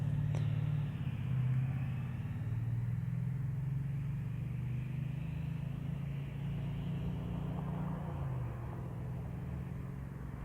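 A Kawasaki Vulcan S motorcycle engine idles with a steady, low rumble at close range, droning evenly with no voices over it.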